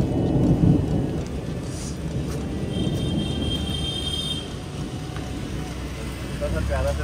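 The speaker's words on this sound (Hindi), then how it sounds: "बारिश हो रही है" Steady rain pours throughout, a dense wash of noise with a low rumble underneath, close and continuous.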